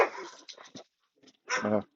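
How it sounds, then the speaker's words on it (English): Several neighbouring dogs bark and yip outdoors, close and loud in short bursts with brief gaps between. "Next door neighbor dogs are out now too, so we have a whole bunch of dogs barking"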